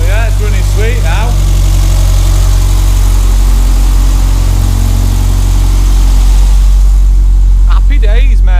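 A Renault 5 GT Turbo engine runs steadily at idle after a fuel line repair, a constant low rumble throughout, with someone talking over it at the start and end.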